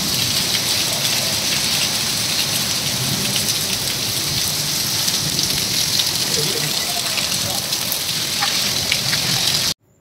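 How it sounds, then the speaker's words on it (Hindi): Heavy rain pouring down on surfaces, a dense continuous hiss and patter, loud and steady for nearly the whole stretch before cutting off abruptly. "इतनी अच्छी बारिश हुई बहुत दिनों बाद में"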